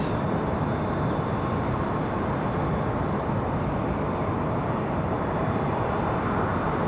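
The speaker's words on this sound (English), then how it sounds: "Do have that departure off the JFK, that CRJ 900LR" A CRJ 900LR jet airliner departing, producing a loud, broad, unbroken engine roar that holds steady throughout, with no voices.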